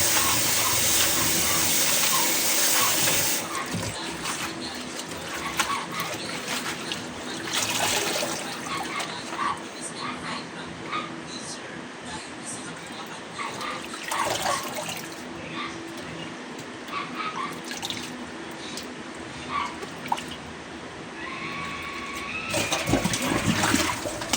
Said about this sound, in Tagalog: hugas na hugas tong gulay para malinis ang ating kakainin